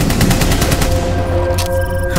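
Rapid gunfire in Rainbow Six Siege, a quick burst of about a dozen close, sharp shots in steady rhythm, then fading into a ringing tone.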